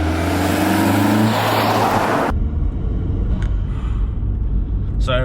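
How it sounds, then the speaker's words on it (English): A VW Golf MK4 GTI with a 1.8T turbo engine, fitted with a ram air filter, roars loudly up close, then its note drops as the diverter valve recirculates air with short whooshing bursts. "you can actually hear the diverter valve recirculating the air into the system"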